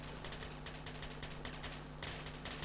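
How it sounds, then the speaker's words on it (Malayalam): Video game gunfire crackles in rapid, continuous bursts that sound like automatic fire, steady and fairly quiet, with no talk over it. "കുറെ വെടി ശബ്ദം കേൾക്കാം"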